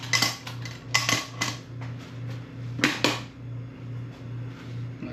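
A metal lid goes back onto a cooking pot of stew with garlic and clanks several times in a few sharp strikes, close by, while a low steady hum runs underneath.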